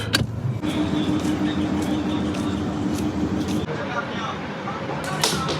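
A car is parked at a lodging near Takhat Shri Hazur Sahib, its engine a steady close rumble with road noise and people talking over it.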